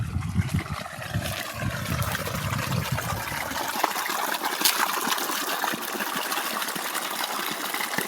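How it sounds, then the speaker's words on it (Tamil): Water flows and trickles steadily close by, a continuous splashing rush with a heavier gushing undertone early on, no one speaking. "இங்கே தான் தண்ணி போயிட்டு இருக்கு."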